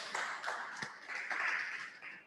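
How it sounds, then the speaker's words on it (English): Brief scattered applause from an audience at a gathering on healthy cooking, a few claps sounding near and fairly faint with no talk over them. "Please, a round of applause too."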